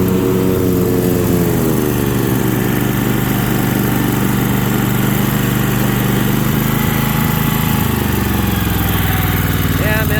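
An MTD White riding lawnmower with an 18hp V-twin Tecumseh engine runs steadily and loudly nearby, a continuous droning roar with a slight pitch dip near the end.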